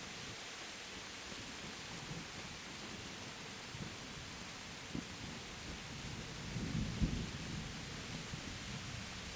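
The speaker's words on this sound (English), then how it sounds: "Thunder's loud, man." Steady rain hisses under a low, distant roll of thunder that swells briefly near the end, all faint and without any voices.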